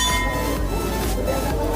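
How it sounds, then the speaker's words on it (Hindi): A temple bell at Kalyaneshwari Mandir rings with a bright metallic tone that lingers over a dense, noisy background of crowd and ambient sound. "घंटी की आवाज़ तो सुनाई दे ही गई होगी आपको"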